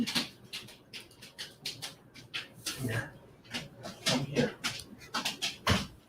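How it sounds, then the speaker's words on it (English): A dog walks across a hard floor indoors, its paws and claws making soft, irregular tapping patter. Quiet whimpering noises come through between the steps. "Coming through with the dog, so you're gonna hear tip tap,"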